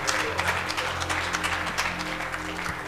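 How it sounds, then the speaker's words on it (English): Church congregation clapping for a young woman during a Sunday morning service, a steady broadband patter of many hands filling the room, with faint voices and an organ-like hum underneath. "Give her a hand clap."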